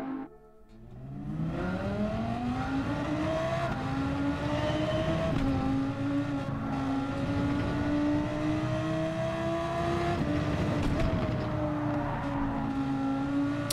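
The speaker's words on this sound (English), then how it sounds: "See, there's a bit of sliding. You can hear the tyre squeal." Tyres squeal as a car slides in Gran Turismo 7 racing, a sustained rising and wavering tonal whine over the steady engine drone, loud and continuous throughout.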